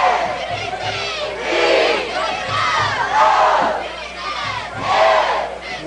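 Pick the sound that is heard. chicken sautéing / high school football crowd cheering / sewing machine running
high school football crowd cheering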